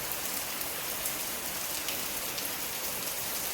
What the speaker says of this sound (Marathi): खूप पाऊस आहे खूप पाऊस आहे